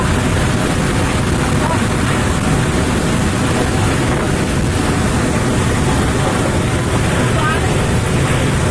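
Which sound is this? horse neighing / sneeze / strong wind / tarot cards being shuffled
strong wind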